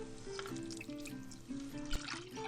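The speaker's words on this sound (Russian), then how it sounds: "Вливаем 500 миллилитров молока." Milk is poured into a pot of cooked rice, a soft, faint trickle and light splashing that run steadily for a couple of seconds, with a few clinks and no talk over it.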